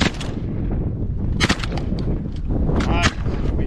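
Shotgun blasts at mallards during a duck hunt over a flooded bean field, two sharp reports about a second and a half apart over steady wind and outdoor noise.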